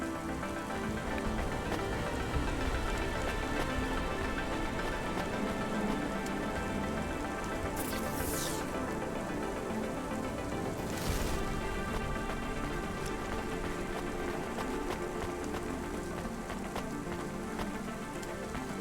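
Steady rain falls and patters on surfaces in a rainy street scene in the video game Cyberpunk, an even wash of sound throughout with a couple of brief brighter swishes, and no voices.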